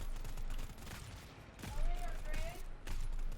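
Gunfire in the co-op shooter game GTFO, bursts of rapid weapon fire rolling over a dense, loud mix of game noise with brief mechanical clicks and whines, continuous through the whole stretch.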